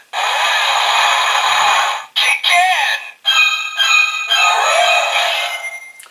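A loud electronic sound effect from a Kamen Rider Drive Mach Driver toy belt, with warbling, spooky tones and synthetic chimes, broken by a couple of short pauses before trailing off.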